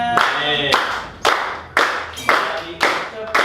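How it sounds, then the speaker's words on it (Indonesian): Children clap their hands together in a steady rhythmic pattern, sharp regular claps recurring about every half second in a room, with a voice faintly present between them. "ayo kita awali kegiatan kita hari ini dengan bertepuk tangan berirama"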